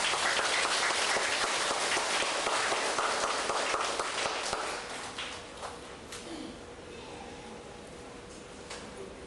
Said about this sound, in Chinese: 就用热烈掌声来邀请咱下一面的这个讲师朱秀媛讲师